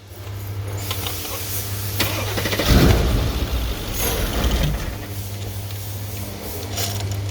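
2012 Mercedes CLS 63 engine being cranked over during a check-up with one dead fuel pump on the driver's side, a mechanical starter whir that swells loudly for a couple of seconds over a steady low hum, then settles back.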